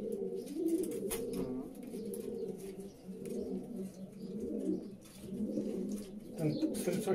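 Racing pigeons coo steadily in a breeding loft in Żagań, with soft overlapping rolling calls from several birds continuing throughout at moderate volume.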